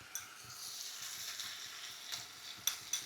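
Butter sizzles in a pan of garlic prawns with spring onion, giving a steady crackling fry broken by a few light clicks of stirring.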